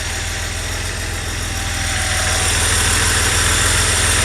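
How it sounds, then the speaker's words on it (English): A 1989 Porsche 930 Turbo Cabriolet with a G50 gearbox idles steadily during a cold-start warm-up, its engine giving a loud, even mechanical drone with a low pulsing rumble and a slight rise in level partway through. "Here's our engine during the warm-up process."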